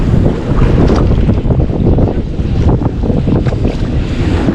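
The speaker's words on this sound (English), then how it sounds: "Wind is kicking up." Wind on the ocean during kayak fishing off the Oregon coast: loud, gusty roaring rushes over the microphone mixed with water wash against the kayak, close and continuous.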